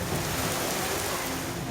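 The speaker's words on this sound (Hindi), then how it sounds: "संत कबीर नगर में भी झमाझम बारिश हुई।" Heavy rain in Sant Kabir Nagar, a brief, even wash of dense hiss from falling water, moderately loud and unbroken.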